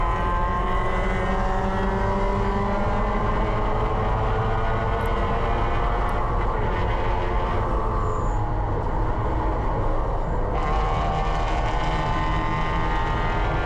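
Race cars at an SCCA race on an oval track, heard from inside a car right after the green flag: a loud, steady engine drone with layered harmonics, briefly shifting as it climbs through gears.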